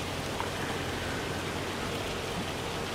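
Steady dense rain with hail pattering down in the Farming Simulator 25 game world, an even, continuous hiss of drops on surfaces with no breaks and no voices.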